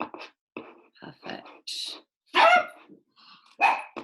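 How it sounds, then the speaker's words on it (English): A pet dog barks and yips in short bursts at home, close and fairly loud, interleaved with a voice speaking briefly. "And apologies for the dog."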